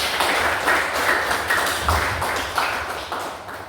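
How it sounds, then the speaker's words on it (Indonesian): A classroom applauds a student group, a steady wash of many hands clapping close by, lasting the whole moment with slight swells and no talking. "Kita kasih aplaus untuk kelompok 1."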